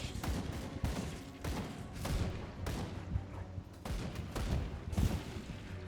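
Weapon fire in the action RPG Grim Dawn: a steady run of punchy shots, roughly one to two per second, with thuds and crackles, continuous and fairly close.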